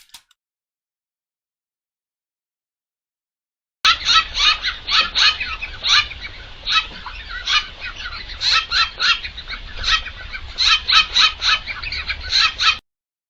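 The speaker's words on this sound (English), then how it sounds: "It's one bird bullying another," Fowl clucking and squawking in a continuous, busy stream of short calls after several seconds of silence, one bird harassing another, fairly close and moderately loud with no talk.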